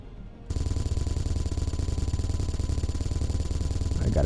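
A Gatling turret in the space game Space Engineers opens fire after a brief quiet moment, a loud, rapid, unbroken stream of shots that continues to the end.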